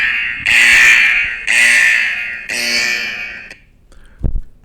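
Three loud buzzing alarm-like blasts from an alert sound effect, each about a second long, followed by a short thump.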